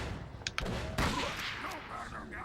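A few sharp gunshots ring out in Call of Cthulhu: Dark Corners of the Earth, short close cracks with a shouted voice over the fire.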